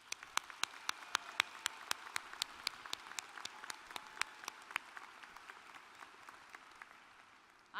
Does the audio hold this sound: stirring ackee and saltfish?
no